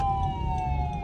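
A wailing ambulance siren on a road holds a steady, loud, sustained tone throughout, with a low vehicle rumble underneath.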